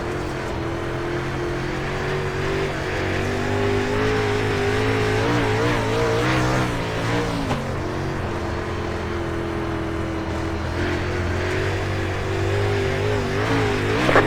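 A race car laps a slick dirt track, its engine droning loud and close throughout with shifting revs and occasional tire scrub as it slides through the turns.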